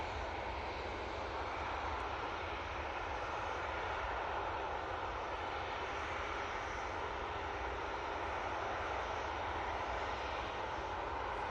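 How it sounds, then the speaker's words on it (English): An airliner coming in to land at Manchester Airport on a positioning flight from Glasgow, a faint, steady distant engine rumble and hiss that stays even throughout, no voices. "Now coming in. This is the positioning flight from Glasgow."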